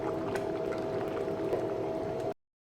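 Vegetables simmer in a pot for Pongal kuzhambu, giving a steady, dense bubbling hiss with a constant low hum, close and fairly loud, continuous until it cuts off abruptly.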